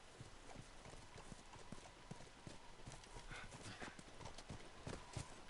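Horse hooves clip-clopping in The Last of Us Remastered, a steady run of hoof strikes close by over a dense background, with a brief whinny-like sound and no talk.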